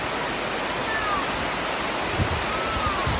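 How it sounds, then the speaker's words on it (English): A waterfall at Sheffield Park pours steadily, giving a continuous broad rushing wash of flowing water at moderate level, with faint faraway sounds over the top and no talk. "There's a waterfall. There's water."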